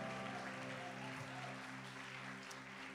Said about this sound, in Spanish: Aplaude fuerte a Dios.